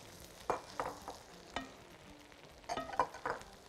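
Bell peppers of mixed colours cooking in a pan for shish tawook with pizza-sauce pasta, giving faint sizzling with several soft stirring scrapes and clatters in short bursts.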